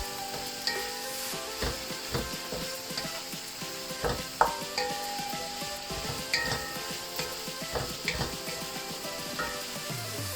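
Vegetables stir-frying in a pan with beef stock for Filipino pancit, with steady sizzling under scattered scrapes and stirring knocks from a utensil, fairly close, no one speaking.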